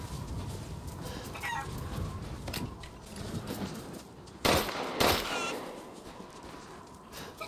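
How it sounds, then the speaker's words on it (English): Chickens cluck and a rooster crows at a farm windmill in the video game Resident Evil Village, a steady flurry of calls over a noisy ambient bed, with two loud sharp bangs near the middle. "Do I need any more chickens?"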